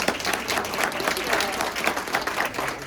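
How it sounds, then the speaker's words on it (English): An audience claps in sustained applause for sponsors at a Parkinson's community event, a dense, even wash of many hands that stays loud and steady throughout without any speech over it. "Let's give them a round of applause."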